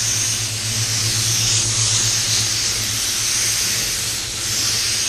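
Spray gun laying down an even base coat of paint, a steady loud hiss of spray that runs without a break, with a low hum beneath it and no talking.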